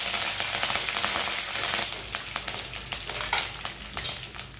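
Curry leaves crackle and sizzle in hot oil with urad dal and mustard seeds for a Konkani raw jackfruit curry. The hiss is dense and close, with sharp pops that grow toward the end.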